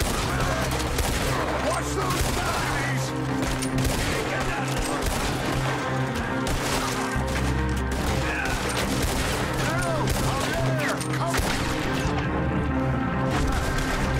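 A Red Dead Redemption 2 shootout at Braithwaite with dense, loud, continuous gunfire and rapid overlapping shots throughout.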